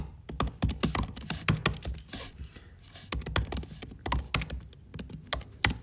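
Rapid bursts of clacking keystrokes on a computer keyboard, typed at high speed in dense runs with a brief lull midway, close and fairly loud with no talking.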